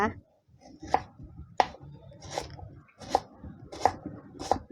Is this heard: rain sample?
no